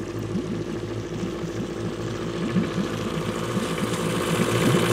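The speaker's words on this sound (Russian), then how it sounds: "Запустили мотор" A boat's outboard motor running on a lake during a pike fishing trip, a loud steady engine drone with a throbbing pulse that grows a little louder, no voices.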